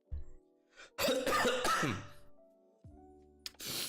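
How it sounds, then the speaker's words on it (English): A person coughs hard several times in a rough burst, then a short cough and another near the end, close and loud, with quieter tonal background between. "it's not a sneeze, it's a cough"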